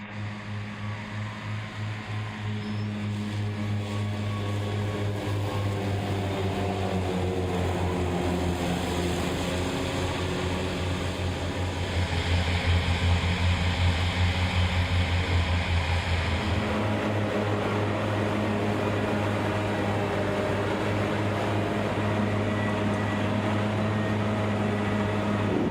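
A Cougar tractor mower cutting grass at up to 20 hectares per hour in Germany: a loud, steady engine drone with a deep hum that holds throughout, swelling slightly in the middle, with no talk.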